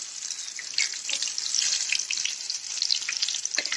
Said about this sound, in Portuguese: Agora vamos colocar para fritar, certo?